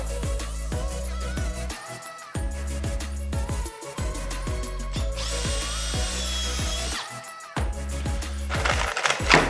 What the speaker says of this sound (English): Now I'm pre-drilling all of my holes